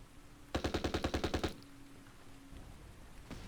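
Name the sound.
machine gun firing in video game Battle for Iwo Jima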